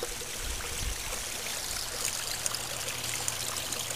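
Water from a 3-inch floating siphon outlet pours and splashes over gravel, a steady close gushing flow that holds at a constant level throughout with no talking.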